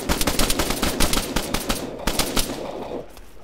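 Rapid bursts of close automatic and single gunshots in the military shooter Arma 3, loud, sharp cracks fired in quick succession with no talking.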